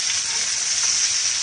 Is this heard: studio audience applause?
no